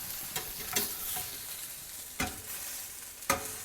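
Impossible Burger vegetarian patty in a frying pan, cheese on top, being flipped: a steady close sizzle with sharp clinks and scrapes of a spatula at several points, no talking.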